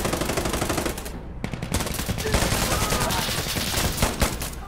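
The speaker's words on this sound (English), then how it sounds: "Bullets flying around." Heavy gunfire in the shooter game Insurgency Sandstorm, with dense automatic bursts and scattered shots cracking back and forth, loud and continuous throughout.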